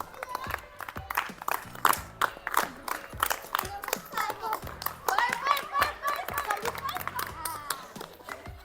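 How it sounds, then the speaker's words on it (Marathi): Schoolchildren clap after a classmate answers a quiz question in a school game, giving a ragged run of sharp, uneven hand claps with a few voices calling out over them. "चला टाळ्या वाजवा"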